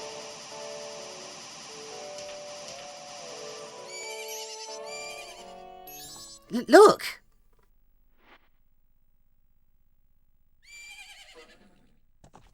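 A horse neighs once, loud and brief, in Zelda Majora's Mask 3D, after a stretch of layered game music and sound effects; a voice briefly calls out, and a faint game sound follows.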